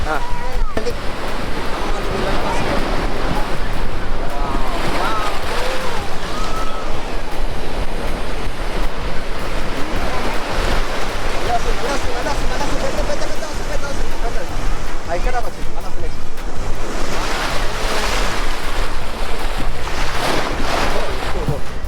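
Waves crash continuously against the shore at Gokarna Beach with a steady roar and gusty wind noise, while voices talk faintly underneath.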